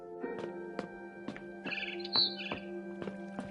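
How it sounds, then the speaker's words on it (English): A barn swallow chirps outside a window, a run of short, sharp tweets and a brief twittering trill, close and clear against a quiet background. "Then I heard chirping outside my window."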